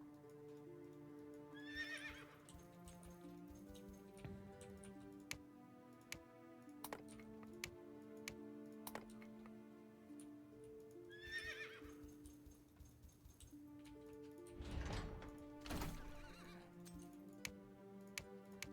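Horses neighing and whinnying in the real-time strategy game Eyes of War, two distinct whinnies over a background of game music with clicking interface ticks and hoofbeats, faint overall with no talk.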